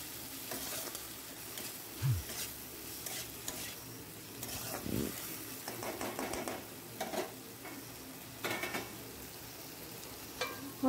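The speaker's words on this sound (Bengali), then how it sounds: "ভালো করে এরপর একটু জল দিয়ে মশলাটাকে কষিয়ে নেব।" Spice masala for a fish curry frying in a pan with a little water, a steady low sizzle broken by intermittent stirring scrapes and soft clinks, with no talk.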